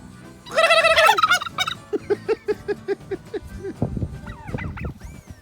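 A turkey gobbles loudly in a rapid warbling burst, then a series of shorter clucks and calls follow in a steady rhythm, close by.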